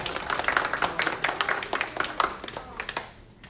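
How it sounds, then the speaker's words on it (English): Live audience applause at a gathering, many hands clapping in a busy uneven patter that thins out and fades near the end. "Let's give applause."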